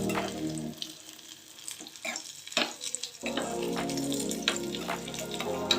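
Raisins fry in ghee for a kodo millet sweet pongal, a moderate sizzle with occasional stirring clicks and scrapes, swelling louder and denser in the second half.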